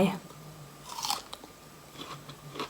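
A crisp, sweet persimmon bitten with a couple of crunchy snaps, followed by soft chewing, close and fairly quiet.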